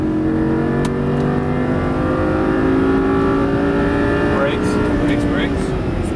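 A Lamborghini Gallardo LP engine revs and accelerates on a race track, its rising, sustained roar heard up close from inside the car, with rising tonal sweeps through the gears.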